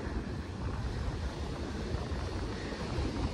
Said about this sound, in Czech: dneska dost fučí vítr